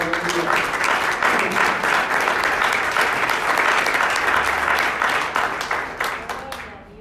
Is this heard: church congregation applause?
yes